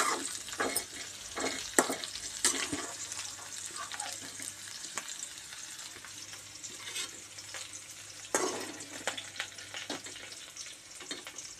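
Okra pieces fry in hot oil in a pan, a continuous close crackling sizzle punctuated by several louder clinks and scrapes as the pieces are stirred and lifted out.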